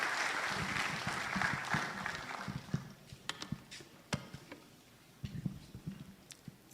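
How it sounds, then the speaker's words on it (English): An audience at a management day celebration claps to welcome a speaker, starting as dense applause and thinning into scattered separate claps that fade and briefly pick up again. "if you can help me welcome with a round of applause, Mr. Philip Amwating"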